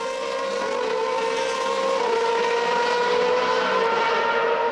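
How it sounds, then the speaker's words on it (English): A 2003 Formula 3000 race car leaving the pits after a stop, its engine holding a loud, steady high-pitched drone that carries on without a break. "That is Tony Schmidt coming out of the pits after his stop."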